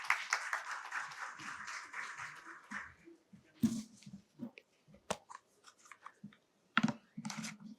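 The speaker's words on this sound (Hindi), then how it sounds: "जोरदार तालियों के साथ स्वागत।" A short burst of audience clapping at an agriculture leadership conference fades out after about three seconds, followed by scattered claps, knocks and shuffling in a quiet room.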